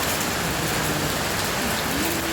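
Heavy rain pours down in a dense, steady roar, loud and close, with no break and no voices.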